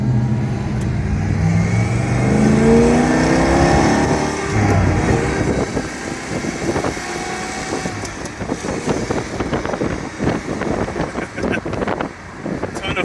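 A 1962 Pontiac Catalina with a Tri-Power setup and four-speed revs hard on a road drive. A rising engine roar and gear changes give way to a steady drone with heavy wind rush and some cabin rattles.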